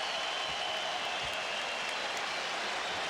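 A basketball arena crowd at a 1997 NBA playoff Game 7 between the New York Knicks and Miami Heat roars as a steady, dense wash of noise throughout, with no clear voices standing out.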